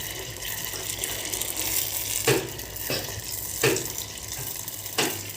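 Oil pitha, a Bengali fried rice cake, sizzles steadily in hot oil, a loud continuous frying hiss broken by a few brief sharper bursts as pieces are turned and lifted; no one speaks.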